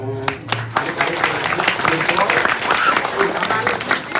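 Applause from a crowd at a Balinese community gathering in Banjar Pengaji, a sustained patter of clapping with talk mixed in and some louder tones near the start.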